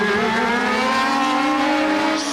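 Formula 1 cars of the 1981 Spanish Grand Prix race past, their engines a loud, sustained high-pitched whine with steady harmonic tones and no talking.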